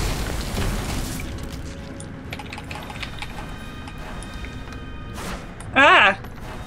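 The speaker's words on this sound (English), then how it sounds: "Everything is exploding!" Explosions in the video game Magicka go off in a busy run of booms and crunchy bursts, with a sharp warbling magical whoosh near the end, all fairly loud in the game mix.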